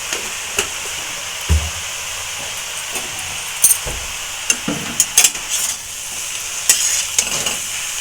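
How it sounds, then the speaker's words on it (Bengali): Water spinach frying with garlic, turmeric and salt in a pan, a steady steamy sizzle and hiss throughout, broken by a few scattered stirring knocks and scrapes nearby. "ভেজে নেব।"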